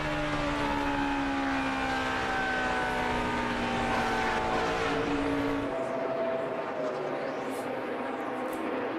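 NASCAR stock cars at the 2008 Ford 400 roar at full throttle down the straightaway, a loud layered engine wail whose pitches slide downward as the cars pass, thinning out after several seconds.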